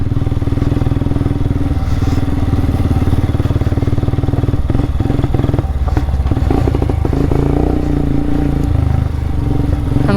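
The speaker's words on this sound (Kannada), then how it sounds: "ಗಾಡಿ ಯಾಕೆ ಬಗ್ ಬಗ್ ಅಂತೈತೆ" A motorcycle engine sputters and runs unevenly, loud and close throughout, a continuous rough idle with rattling and clattering mechanical noise, no voices.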